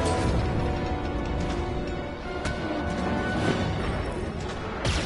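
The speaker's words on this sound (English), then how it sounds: "That's the blasters." Blaster fire in the Star Wars Jedi: Fallen Order video game: a dense, loud barrage of zapping shots and impacts over rumbling game noise, continuous for several seconds with sharp crackles near the end.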